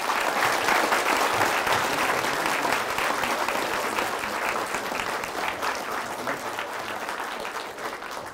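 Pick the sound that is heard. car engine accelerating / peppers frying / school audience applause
school audience applause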